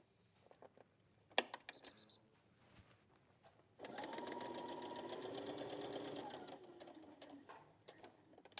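Domestic sewing machine top stitching a folded fabric hem, a steady whirring run of fast needle strokes for a few seconds after some handling clicks, heard at close range in a quiet room.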